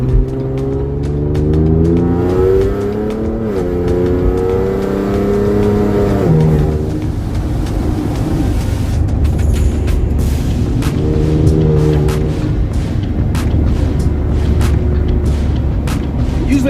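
A Ford Explorer in manual mode accelerates hard, its engine note climbing steadily through the gears with a loud, continuous roar and audible shifts, heard from inside the cabin.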